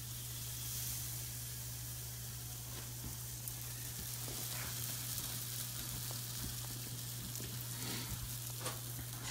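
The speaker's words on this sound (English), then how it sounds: "just taking a little bit of butter so we can grill it" Butter sizzling on a hot grill while cooking a whitefish bacon cheeseburger, a steady soft crackling hiss with scattered pops and light scraping over a low hum.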